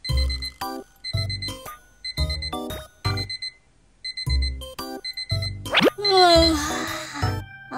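An alarm clock rings in Minecraft, sounding as loud, repeated bright electronic bursts in a steady on-off rhythm, followed by a voice talking over a rising tone near the end.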